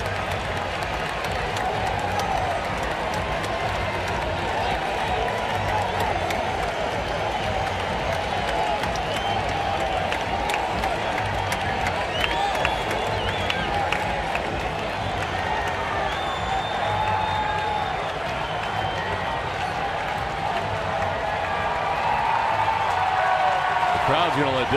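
A baseball stadium crowd roars and boos steadily as an ejected player leaves the field, a continuous broad wash of noise with a broadcaster's voice talking over it.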